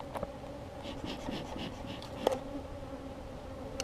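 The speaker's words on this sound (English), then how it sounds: "The bees make a little bit of noise because they're fanning" Honey bees fan at an opened hive, a low continuous hum with a faint tonal buzz, joined by occasional light scrapes and one brief sharper click.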